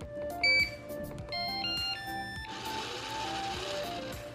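A Eufy robot vacuum switched on with its brush spinning: electronic beeps and tones, then a steady whirring motor hum that rises and holds.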